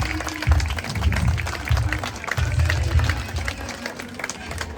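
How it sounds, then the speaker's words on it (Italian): A small audience claps at a bronze-casting demonstration, a moderate, slightly distant patter of hands that swells and fades in bursts, mixed with low rumbling background noise. "Grazie intanto per l'applauso"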